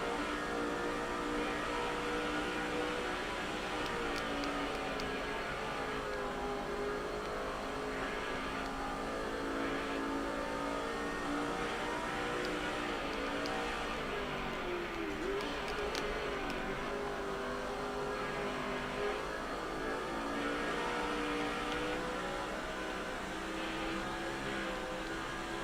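NASCAR 06 race cars droning steadily around a New York City street circuit, a continuous layered engine hum with cars passing at a moderate distance, no talk.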